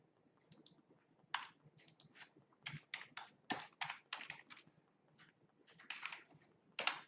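Typing on a computer keyboard, a close, quiet patter of irregular key clicks in short bursts with brief gaps, no talking.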